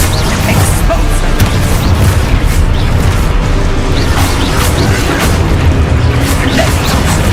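A spell-cast blast from the Exposo charm in Hogwarts Legacy, a loud, dense booming crash over continuous battle noise, with further bursts and crackles throughout.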